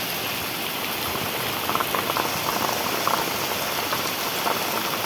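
Heavy rain pours steadily at home, a dense continuous hiss of drops drumming on surfaces with no voices over it.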